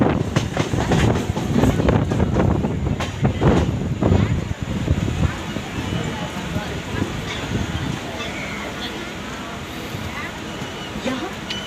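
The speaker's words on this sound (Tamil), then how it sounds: "சென்னை சென்ட்ரல் புறநகர் முனையத்திலிருந்து ரீசெண்ட் சென்ட்ரல் நோக்கி புறநகர் தொடர்பு பயணம்" A Chennai suburban train runs on rails near Basin Bridge Junction, a steady loud rumble with rhythmic clattering and wind noise, heaviest during the first few seconds and then a continuous drone.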